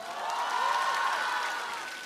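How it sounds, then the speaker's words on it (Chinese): An audience applauds a live band at a televised music show, a steady wash of clapping that swells and then eases slightly over about two seconds, heard at moderate distance. "大家给生活乐队老师一点掌声好吗？"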